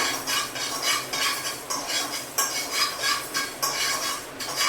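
Fenugreek seeds fry in a pan while a spoon keeps stirring them, giving a rhythmic scraping and rattling over a light sizzle.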